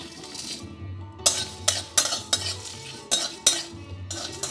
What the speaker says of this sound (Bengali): এটা একটু শুকনো খোলায় আমি ভেজে বেটে নেব।